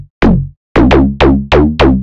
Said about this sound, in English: Thump One by Toybox. Now, this is technically a kick plugin.